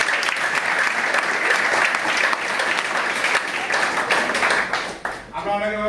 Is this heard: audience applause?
yes